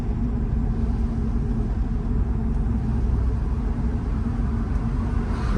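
A Mercedes W211 E350 drives gently at low speed, its engine and road noise forming a steady, close, low rumble heard from inside the cabin, with no talk.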